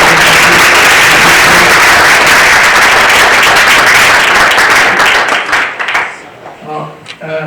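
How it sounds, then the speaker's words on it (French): A conference audience applauds the speaker Marina after a neurotechnology talk, loud dense clapping that thins out toward the end as a voice begins speaking over it. "venez voir moi pour applaudir Marina"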